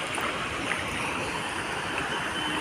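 A waterfall pours into the river at Dawki in Meghalaya, heard from a boat as a continuous, even rush of water at moderate distance, with no talking.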